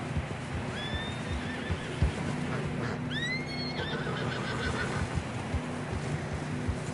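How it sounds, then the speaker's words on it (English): Horses whinnying in the video game Red Dead Redemption 2 on a snowy mountain trail: two rising, shrill neighs over steady wind and hoof clopping, with no talk. "Horses are getting tired."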